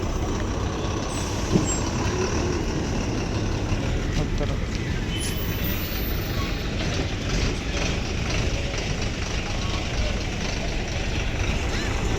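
A KSRTC bus bound for Kalyanadurga pulls out of Kempegowda (Majestic) bus stand terminal 2, its engine rumbling steadily amid dense, continuous station noise, with indistinct voices in the background.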